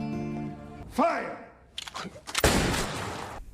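Gunfire from a duel scene in the action film John Wick: Chapter 4, with a sharp burst followed by a loud, crackling blast that trails off, preceded by a tonal sting and gasping breaths.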